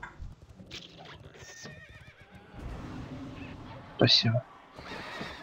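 A horse mount in an online video game neighs with a short, loud whinny near the end, along with faint clip-clop hoofbeats, while people talk throughout.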